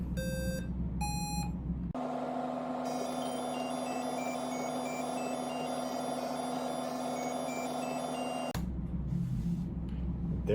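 A homemade MIPS assembly program plays an electronic beeping tune from a re-recorded track. A couple of short synthetic beeps come first, then a sustained buzzy electronic tone with stepping high pitches, which cuts off abruptly near the end.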